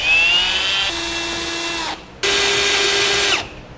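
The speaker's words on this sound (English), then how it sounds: "We'll use our final size drill bit to go to the center of the hole" A power drill marks the centre of a hole for a Blue Ox base plate on a 2002 Honda CR-V, whining at high speed in two close, loud bursts with a brief stop between them.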